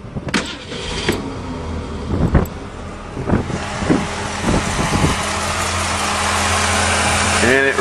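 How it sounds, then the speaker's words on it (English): A 1935 Mercedes car engine, running on fresh fuel, cranks and catches, then settles into a steady, close idle that holds to the end, with a few sharp knocks near the start. "Now that all the old gas is siphoned out, it's all fresh in the tank now. It'll start right up."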